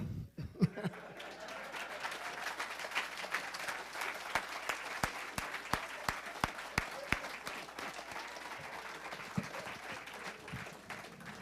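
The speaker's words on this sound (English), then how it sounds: "Mr. Ned, you get a standing ovation, Mr. Ned." A ballroom audience at Queens Park Oval in Port of Spain applauds warmly in a standing ovation. The steady clapping fills the room, with a few sharper claps popping out and faint voices underneath.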